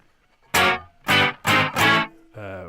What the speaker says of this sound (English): You can have the reverb as well as the repeats.